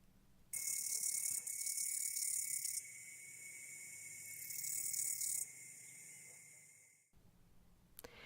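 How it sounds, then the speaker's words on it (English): Cicadas sing in loud, buzzing bursts that swell and cut off, layered over a steady high insect drone, then fade away near the end. "There's silence in between the singing of cicadas."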